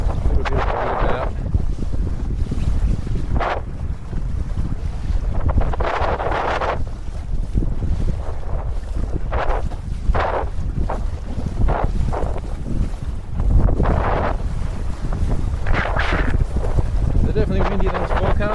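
Gusty westerly wind buffets the microphone during a wing foiling session on Pittwater, a steady roar with rising gusts over water noise, continuous and loud throughout.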